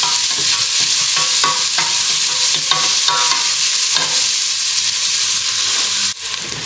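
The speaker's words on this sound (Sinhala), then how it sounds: "අපි මේ ලුණු ටික හොඳට බැදෙන්න ඕනේ." Onions frying in a pan until brown, a loud continuous sizzle broken by repeated scraping stirs of a utensil against the pan, with a brief drop near the end.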